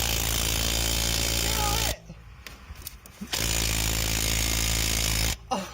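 Loud, close rattling hammering of a 3/8-inch Ingersoll Rand impact wrench working on a 7.3 Powerstroke diesel, running steadily, pausing briefly in the middle, then running again with a short break near the end.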